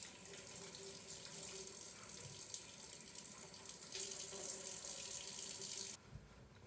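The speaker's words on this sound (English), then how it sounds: "And I'm gonna rinse off my face and rinse out my eyes too" Tap water runs steadily into a sink while someone rinses hair dye off their face and eyes at home, a continuous close splashing hiss that cuts off near the end.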